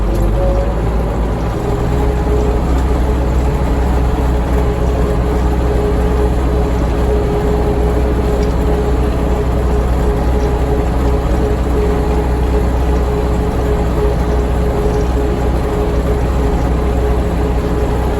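A tractor in sixth high gear drags a disc harrow fitted with new discs across hard, dry ground, its heavy engine droning steadily and loudly up close for the whole stretch with no talking.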